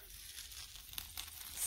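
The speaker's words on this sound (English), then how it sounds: "Sizzling." Chicken pieces and chopped onion seasoned with Creole seasoning sizzle in a frying pan, a steady close hiss and crackle that grows slightly louder near the end, with no talking.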